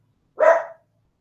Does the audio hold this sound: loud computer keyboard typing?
no